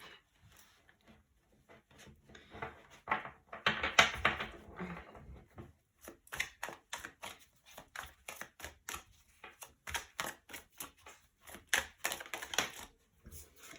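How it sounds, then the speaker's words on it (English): Tarot cards riffled and shuffled by hand, a quiet series of close, crisp papery bursts and taps in an irregular rhythm, with no talk. "So let's shuffle the cards and start your reading."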